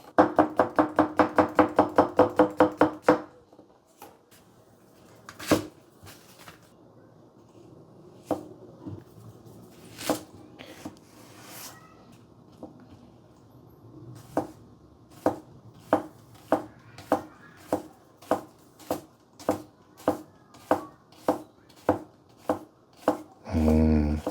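Rhythmic chopping with a Tsukasa Hinoura River Jump Japanese kitchen knife on a cutting board: a fast burst of rapid strokes, then scattered single cuts building into a steady, close, evenly spaced series of sharp knocks.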